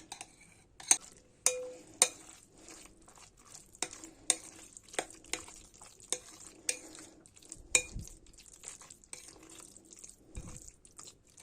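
A spoon mashes and stirs yogurt into prepared vegetables, including spinach, roasted peppers and carrot, giving irregular wet squelches and sharp clicks against the bowl, close and quiet with pauses between strokes.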